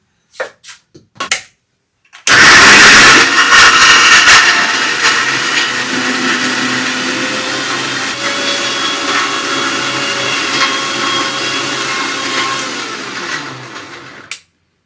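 A mixer grinder blitzes ingredients for saag, starting with a few short clicks and bumps, then roaring up loudly and holding a constant, close, high-pitched whirring grind for about twelve seconds before cutting off.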